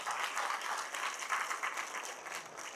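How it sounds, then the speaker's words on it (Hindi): An audience of students claps together on request, the applause a continuous, even patter of many hands, moderately faint and heard on its own without talk. "तो एक बार जोरदार ताली अपने माता पिता बजा दीजिएगा।"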